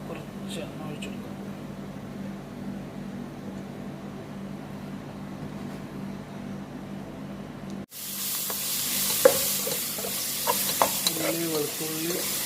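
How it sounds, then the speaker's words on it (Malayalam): Oil heats in a hot pan while molokhia chicken is cooked: a quiet low hum at first, then a sudden loud, bright sizzle with stirring scrapes and pops for the last few seconds. "ചട്ടി ചൂടായുണ്ട്, കുറച്ച് എണ്ണ ഒഴിച്ചെടുക്കാം."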